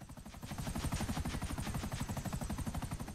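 A helicopter in the video game GTA 5 drones steadily with fast, rhythmic rotor chopping. It is loud and close and stays constant throughout, with no talk over it.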